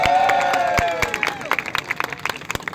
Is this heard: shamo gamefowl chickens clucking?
no